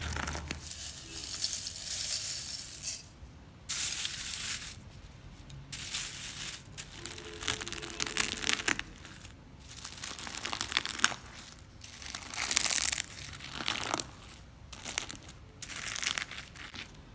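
Crunchy slime with real food items mixed in is squeezed and worked close up, making crackly, crinkling crunches in uneven bursts separated by short quiet pauses, with no talking.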